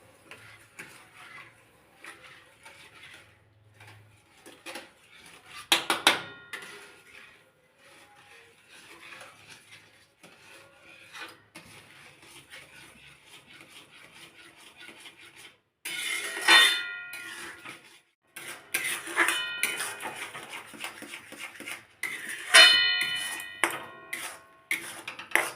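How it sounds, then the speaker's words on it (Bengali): Semolina being stirred in a pan to form dough, with irregular scraping and tapping of a spoon against metal, sparse at first and then busier with sharp clinks toward the end. "অল্প অল্প সুজি দিয়ে আমি একই রকম নেড়ে নেড়ে ভালোভাবে মিশিয়ে নেব।"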